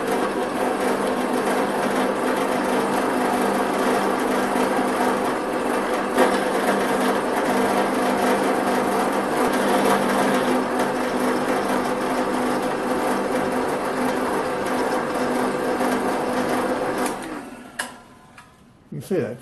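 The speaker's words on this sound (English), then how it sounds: "we'll do some 6mm thick steel. And we'll countersink it with a drill first." A drill bit countersinking a hole in 6mm thick steel, a steady continuous grinding whir running loud and close for about seventeen seconds before stopping abruptly, followed by a few faint clicks and handling noises.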